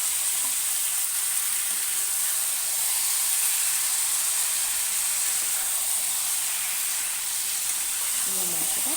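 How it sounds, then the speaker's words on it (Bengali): Marinated mutton sizzles and hisses in a pan with fried onions, a steady bright frying hiss that holds evenly throughout with faint stirring clinks near the end. "মাংসটা কষাতে থাকবে।"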